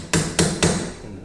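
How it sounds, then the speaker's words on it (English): Three sharp metal hammer blows land on a punched-down axle nut on a Yamaha Rhino rear hub, struck close and loud at an even pace before the sound dies away. "you just need to hammer out the nut here where it's been punched down in the"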